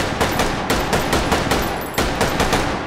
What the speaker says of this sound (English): So let's say we've been firing away with our Bren here